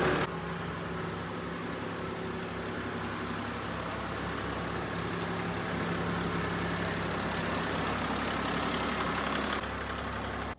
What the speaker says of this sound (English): I am going to start the tractor to get it out of the way.